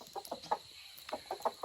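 Backyard hens give a quick run of short, close clucks in uneven bursts, with a brief pause partway through before the clucking picks up again.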